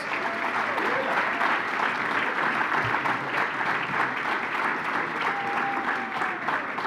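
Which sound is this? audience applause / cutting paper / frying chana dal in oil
audience applause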